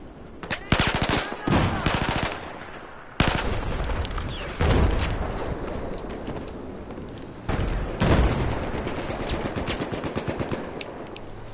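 Rapid automatic gunfire in Battlefield 4 on PS4, loud bursts of machine-gun fire and scattered shots with sharp onsets and short pauses between volleys, no talk.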